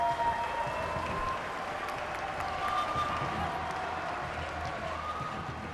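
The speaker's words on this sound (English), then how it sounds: "Applause for the Zimbabweans and getting to 100." Stadium crowd applauding at a 2007 Zimbabwe vs Ireland cricket match as the batting side reaches 100: a steady, moderately distant wash of clapping that continues evenly throughout, with faint commentary-like voices underneath.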